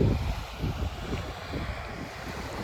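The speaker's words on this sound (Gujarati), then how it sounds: "અને આ બાજુ જો સાગર ઘૂઘવાટા મારે છે." Sea waves roaring against the coast at Porbandar, a steady broad wash of surf mixed with wind buffeting the microphone, continuous and fairly loud with no talk.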